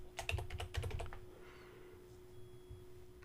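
A short burst of quick keystrokes on a computer keyboard, close and crisp, followed by quiet.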